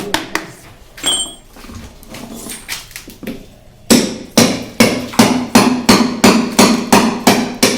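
A hammer pounds a solid tiled kitchen counter to break it up, with scattered blows at first, then a steady run of about a dozen loud, evenly spaced strikes close by, and a dog whimpering briefly early on.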